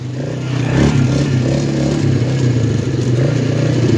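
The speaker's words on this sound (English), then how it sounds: "Set the engine at full throttle." An ATV quad engine revs hard at full throttle, a loud, steady mid-pitched roar with clattering mechanical noise running throughout and no talk over it.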